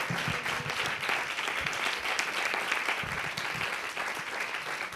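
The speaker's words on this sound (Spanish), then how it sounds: "Un gran aplauso para Aram Aronian." An audience claps steadily after a book presentation about the murder of democracy, dense applause holding an even level throughout the stretch with a few louder claps standing out.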